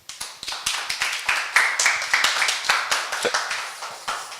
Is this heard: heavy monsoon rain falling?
no